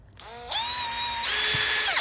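A power drill on drill setting whirs steadily while mixing concrete, its pitch stepping up partway through as the motor speeds, loud and close with no talking.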